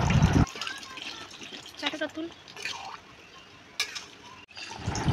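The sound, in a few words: pouring water into the cooking pot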